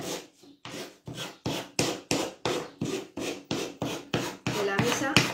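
Rhythmic rasping strokes of coarse sandpaper on wood, about three scrapes per second, close and steady, with no talking.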